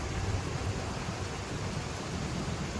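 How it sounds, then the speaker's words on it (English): Steady rain hiss from a passing thunder and lightning storm at a campsite, a dense continuous wash of noise with low rumbling underneath, even in loudness throughout and with no voices. "we have another thunder and lightning storm going through"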